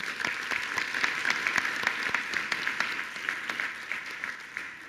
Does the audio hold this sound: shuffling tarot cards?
no